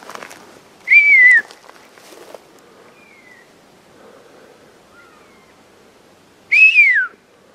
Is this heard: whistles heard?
yes